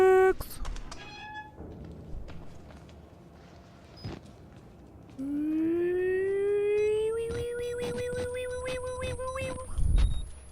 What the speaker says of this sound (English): If you skip to random parts in an air raid siren sound, you can make a remix.